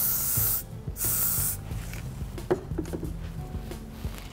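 Two short, bright hisses of an aerosol hairspray can, close by, followed by faint rustling and light handling noises against a low background hum.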